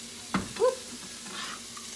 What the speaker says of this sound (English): all I'm going to do is sear this meat in batches on both sides